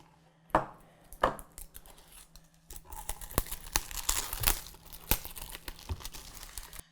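A sharpening stone is unboxed, with sharp crinkling and tearing of packaging and a few crisp snaps, close and fairly quiet, with no voices.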